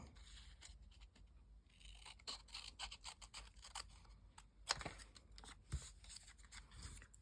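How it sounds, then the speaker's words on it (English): Scissors snipping through paper to cut out a small hand-drawn shape for a journal, with steady close scraping cuts and a few sharper snips, all without talk. "we're just going to quickly give it a cut out"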